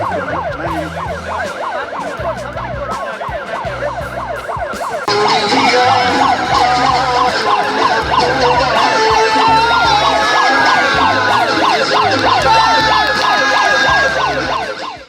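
Siren of a newly launched boat ambulance wailing loudly and continuously by a riverside, its rising and falling tone repeating steadily and growing louder partway through, with no talk over it.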